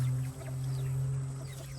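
Backyard chickens clucking softly near a young rooster on a farm before rain, a low steady hum of birds close by with a few faint higher calls and no talking.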